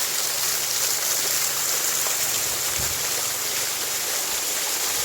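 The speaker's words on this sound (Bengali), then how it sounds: "আমি এখন এই ঝর্ণায় আছি সত্য ঝর্ণা পাহাড় দিয়ে পড়ছে ঝর্ণাটা" Rushing water roars steadily and loudly, a dense unbroken wash of a waterfall pouring down a hillside close by.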